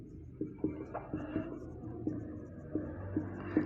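Pen strokes scratch out a maths solution on paper, a quick series of short, close, quiet scribbles in an irregular rhythm with no talking.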